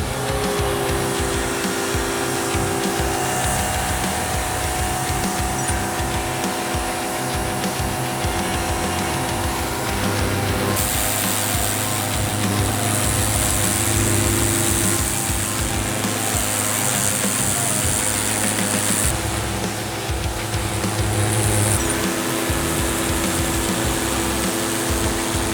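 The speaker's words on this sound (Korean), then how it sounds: "똑같이 그대로 회오리 노즐을 이용해서 바로 한번 작업을 해보겠습니다" A small, palm-sized high-pressure washer with a vortex nozzle cleaning a dirty household floor, producing a loud, continuous motor drone and hiss of spraying water, steady throughout with brief surges in intensity, close and without speech.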